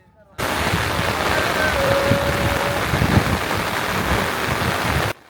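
A houseboat on the monsoon-flooded haor waters of Tanguar Haor, Bangladesh, gives a steady, loud broadband rumble and wash that starts abruptly and holds evenly for about five seconds.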